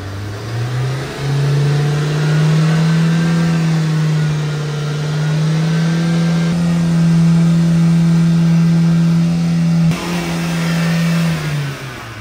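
A Hyundai Grand i10 Nios hatchback engine runs at a steady idle close by, a continuous even hum that briefly shifts pitch near the end.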